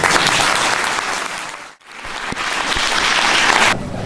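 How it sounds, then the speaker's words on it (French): Applause for a newly named officer of the French Legion of Honour at a medal ceremony: dense, sustained clapping from a gathered audience, breaking off briefly in the middle before swelling again and then easing. "Vous pouvez l'applaudir."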